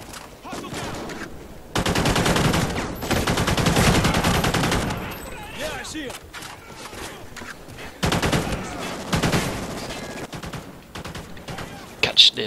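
Bursts of automatic gunfire and rapid shots in the Call of Duty: Ghosts campaign mission The Rescue, loud and close, coming in two long dense volleys with scattered shots and battle noise between them.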